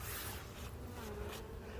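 Honey bees swarm around an open beehive with the lid popped off, giving a dense continuous buzzing hum close to the listener, steady throughout, with no talk.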